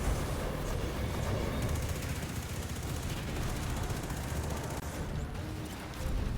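Continuous automatic gunfire during the Crown of Sorrow raid in Destiny 2, a dense, steady stream of shots at moderate level with no clear pauses throughout.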